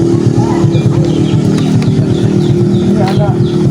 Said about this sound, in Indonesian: Ini ada banyak sekali motor.